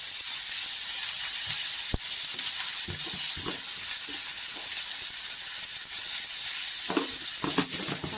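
Brinjal and tomato fry in a pan for chutney, giving a steady, loud sizzle with occasional scraping taps from stirring, close up and without talk.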